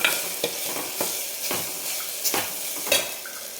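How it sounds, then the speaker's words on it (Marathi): Steady frying sizzle as ground mung bean husks are sautéed in a pan, broken by regular scraping strokes of a spatula every half second or so, close and moderately loud. "मुगाचे सोले ते टाकून घेऊ आपण आणि छान परतून घ्यायचं याला"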